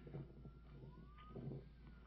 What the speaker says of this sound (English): all the sirens that you hear in the background, those are the police trying to meet up with the other police.